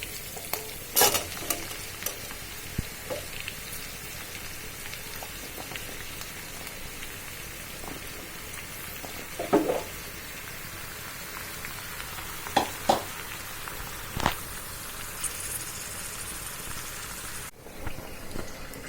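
Bottle gourd seasoned with turmeric and salt hits a pan of fried onion, garlic and green chili, sizzling steadily while a spoon scrapes and stirs with several sharp knocks against the pan.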